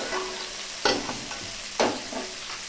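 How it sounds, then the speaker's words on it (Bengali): Food frying in a pan is stirred with two distinct, sharp scraping strokes over a soft background sizzle, close and otherwise quiet. "এইভাবে একটু নাড়াচাড়া করে নিলাম।"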